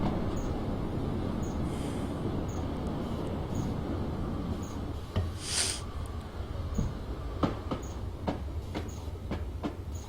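Class 303 electric multiple unit running on the Woodhead Line in Train Simulator, a steady low rumbling drone with a faint high whine, regular wheel clicks over rail joints and a brief hiss partway through.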